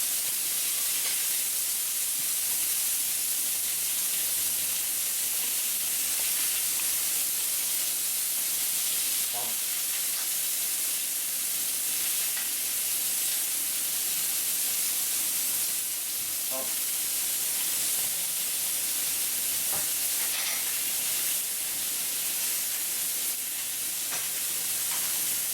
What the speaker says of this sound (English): We wanna hear that sizzle.